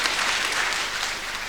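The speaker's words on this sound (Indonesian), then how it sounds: "Tepuk tangan untuk Pak" Dense, even applause from an audience at a university graduation ceremony, a continuous wash of many hands clapping with no talk over it.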